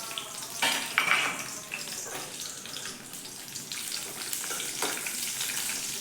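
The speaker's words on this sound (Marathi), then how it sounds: "याच्यामध्ये आपण मिरची आणि लसूण आहे ना आपण जो घेतलेला, तो थोडासा परतून घेऊयात अगोदर।" Chilli and garlic sautéing in a spoonful of oil, a dense continuous sizzle with utensil scrapes and clatter near the start, close and fairly loud.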